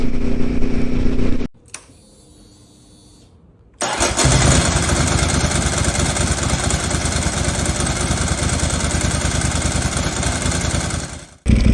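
A Ducati 748R motorcycle engine runs loud and close, cuts out briefly, then roars back and holds a strong, sustained drone while riding on a road in Japan.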